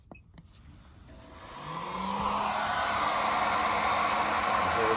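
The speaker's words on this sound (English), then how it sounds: "The hairdryer's working." A hair dryer powered from a camper van's inverter switches on after a couple of clicks, its whoosh and whine rising over about two seconds into a loud, steady blowing close by.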